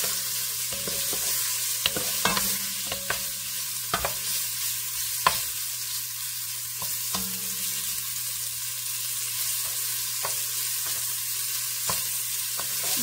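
Beef sears in a hot pan for a pot pie, a steady bright sizzle running the whole time with sharp clicks and scrapes as pieces are stirred and turned, close and alone.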